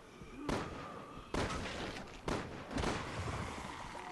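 Four heavy gunshots in the game Resident Evil 6, spaced irregularly across a few seconds, loud and sharp with echoing tails over faint background noise.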